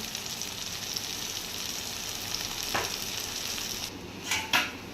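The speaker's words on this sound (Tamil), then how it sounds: "நமக்கு தக்காளி வெங்காயம் எல்லாமே வதங்கியாச்சு. இப்போ இல்லை 3 ஸ்பூன் மிளகாய் தூள் சேர்த்துடலாம்." Tomato, onion and chilli powder sauté in a pan for Tamil kara kulambu: a constant close sizzle with a couple of spoon-against-pan clinks near the end, no talking.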